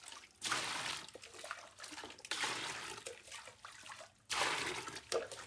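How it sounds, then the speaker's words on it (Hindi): Water gushes and splashes into a tank in bursts, a rushing hiss with gurgling between surges, fairly close and moderately quiet. "अब मैंने पानी भर लूँ।"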